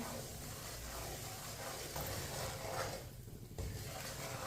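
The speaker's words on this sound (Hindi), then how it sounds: "सूजी को ना इसी तरह चम्मच चलाते हुए भूनना है, ताकि सूजी हमारी अच्छी तरह पक जाए।" Semolina roasts in a pan while a spoon stirs it, giving a soft, continuous dry hiss and scrape at low volume that carries on steadily with no voices.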